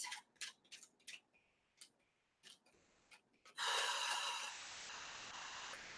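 Tarot cards being shuffled, a run of separate quick snaps and riffles, then a dense, sustained rushing riffle of cards for the last couple of seconds.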